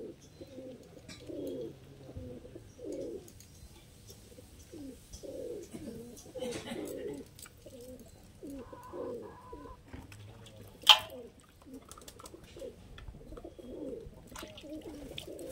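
Rampuri pigeons, golden Kamagar type, coo steadily in repeated low throaty bursts, close by, with a sharp click near the end and faint background noise.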